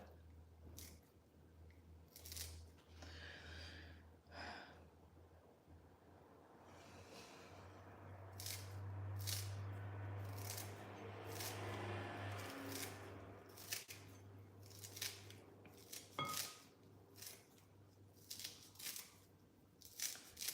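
Fresh herbs such as cilantro and parsley are cut for a lula kebab mixture, giving a run of crisp, close snips at an irregular rhythm over a low steady hum.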